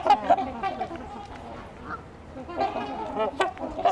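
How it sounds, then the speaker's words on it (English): A couple of Canada geese honk in short bursts, loud and near, with clusters of calls at the start and again toward the end and a quieter gap between. "There's a couple Canada geese here too."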